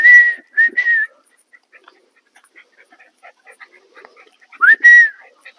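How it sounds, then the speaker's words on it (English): A dog handler's sharp whistle tone sounds twice in quick succession, then after a quiet gap with soft scattered noises, a longer rising whistle rings out, signalling motion and change of direction. "this is my I'm in motion whistle and my change of direction whistle"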